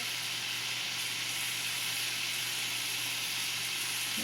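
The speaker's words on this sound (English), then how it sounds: "You're going to cook it until your meat turns brown." Thinly cut beef for Philly cheesesteak sizzles in a hot pan. A steady, even hiss of frying holds at moderate volume for the whole stretch, with no voices over it.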